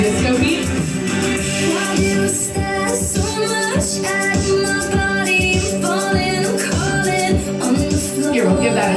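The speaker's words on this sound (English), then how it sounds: "If you're listening, you can still hear that disco beat" Disco drum groove with an added eighth-note hi-hat pattern, played as a drum play-along lesson over a full song mix, steady and loud throughout without talk.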